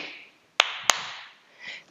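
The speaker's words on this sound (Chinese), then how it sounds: "踩一下地下，拍一下手" Two sharp percussive hits about a third of a second apart, a foot stomp followed by a hand clap, loud and close over a soft airy background hiss, as part of a children's Zumba dance routine.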